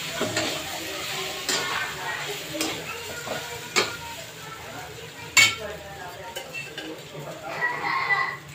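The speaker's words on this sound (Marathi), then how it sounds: "मस्त अशी परतून घ्यायची." Coriander fritters (kothimbir vadi) sautéing in a pan make a soft, continuous sizzle. Scattered clinks and taps of a spatula against the pan sound throughout, along with faint background voice sounds.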